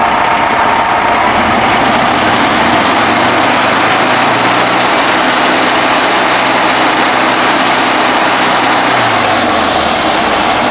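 A 1965 VW Bus engine idles steadily and fairly loud, a continuous even rumble with no talk over it, holding a smooth rhythm across the whole stretch.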